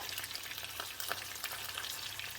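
Steady, crackling sizzle of fish frying in hot oil, close and continuous, with a few brief stirring scrapes and no voices.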